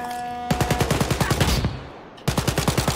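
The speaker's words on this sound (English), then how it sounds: "let me try out this bigger gun." Shotgun blasts in Wolfenstein: Youngblood on PC, a fast rhythmic series of loud close shots, a brief gap as the firing stops, then another quick burst of blasts.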